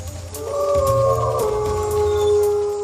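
A howl voiced for the prehistoric bear dog, a lion-sized Miocene predator, set in a nature documentary: sustained tonal wails that rise and bend over a low rumbling bed, loud and continuous with no speech.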